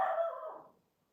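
One short bark from a small dog somewhere outside, fairly faint and distant, fading out quickly into silence.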